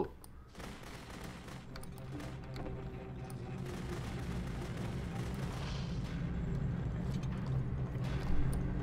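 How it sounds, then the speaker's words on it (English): Gunfire in The Beginner's Guide video game, a string of rapid shots rattling over a dense, busy background that builds in loudness, with no talk over it. "Remember, you can click to fire the gun."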